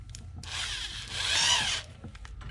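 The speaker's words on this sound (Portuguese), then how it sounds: "a gente vai furar aqui" Power drill boring a hole in a cable head for a brush cutter throttle, a short close whirring burst rising then stopping after about a second and a half, with faint rattling around it.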